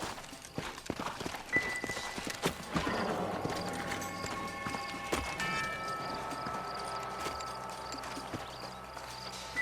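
Horse hooves clip-clop steadily at a moderate distance in the video game Red Dead Redemption, with a few whinnies and scattered outdoor sounds layered over the steps.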